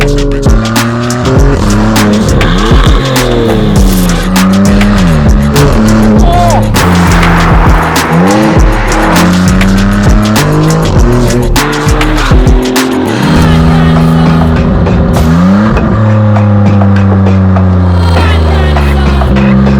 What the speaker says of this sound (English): welcome to the Novitec Maserati MC20 Cielo